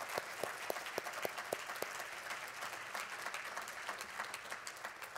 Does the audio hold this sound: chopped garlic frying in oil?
no